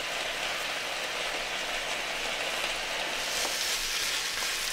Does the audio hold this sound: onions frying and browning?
yes